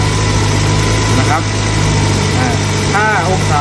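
A car engine runs loud and close at a steady idle during an ignition timing check, throttle raised slightly, with a voice briefly audible over the constant drone.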